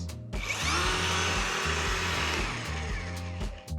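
A Kreg pocket hole joiner drills into wood with a loud, steady motor whine and a grinding bite, running continuously from start to finish with a strong low hum underneath.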